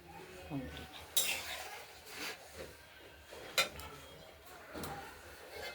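A spoon scrapes and clinks against a pot while paneer curry with potato and tomato is stirred, a few sharp metallic knocks spaced over several seconds under a low background, with quiet speech in places.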